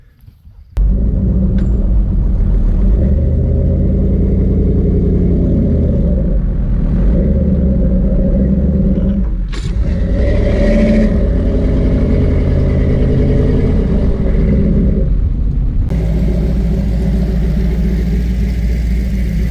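A heavy tractor engine starts up and runs close by with a deep, continuous rumble and clatter, its pitch shifting slightly as it revs.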